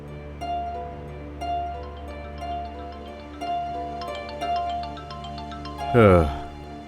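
Phone ringtone in a romantic drama, a repeating melodic chime pattern sounding steadily over a low background hum, with a brief swoosh near the end.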